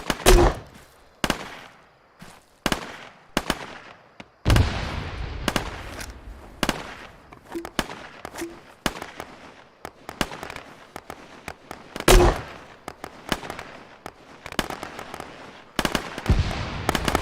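Gunfire during an Arma 3 compound assault: sharp shots and bursts crack out in irregular volleys over about seventeen seconds, some loud and close, others more distant, with faint radio voices.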